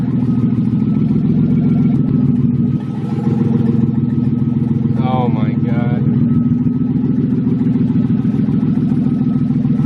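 A loud engine rumbles steadily throughout, deep and close, while people talk excitedly over it.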